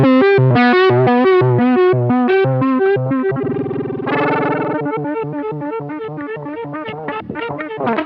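A DigiTech Whammy pedal bends electric guitar notes in pitch: a run of choppy, distorted notes, then a long sustained chord that swoops upward, then more rhythmic picked notes, loud and continuous throughout.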